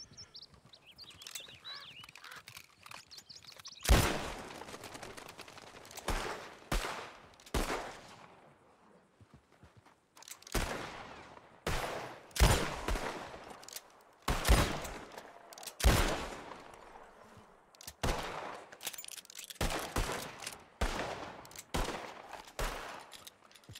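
Revolver shots fired at a practice shooting tree in a Wild West roleplay game, a long irregular series of sharp, loud reports spaced a second or two apart, some in quick pairs, with faint clip-clopping hooves between them.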